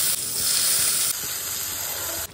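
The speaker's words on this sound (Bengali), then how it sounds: "এখানে এখন পটলগুলো ভাজা হবে" Pointed gourds fry in hot oil, giving a loud, steady, close hiss and sizzle that runs alone throughout.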